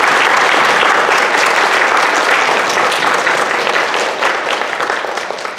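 Loud, sustained applause from a kindergarten graduation audience honoring the graduates, dense clapping filling the whole stretch and tapering slightly near the end.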